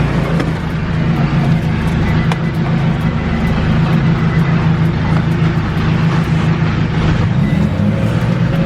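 A second drift car, the G, idles steadily after being started, a loud continuous low engine rumble that holds throughout with no talk over it.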